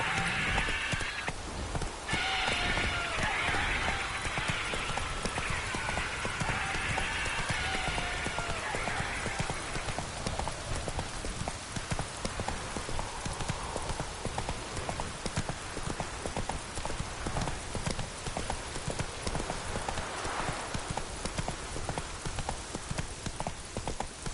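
Horse hooves galloping in the video game The Witcher 3, a fast continuous clip-clop rhythm, close and steady throughout, with soft ambient rain-like noise and a brief voice early on.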